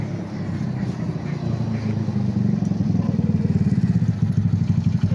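A 199cc motorcycle engine with an aftermarket setup revs hard and close, a loud rapid popping burble that builds and pulses rhythmically toward the end, with no one speaking over it.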